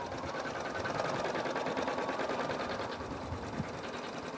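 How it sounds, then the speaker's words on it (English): An embroidery sewing machine stitches a letter design, its fast, even needle rhythm running steadily and fairly quietly from start to finish. "And then just go ahead and start stitching."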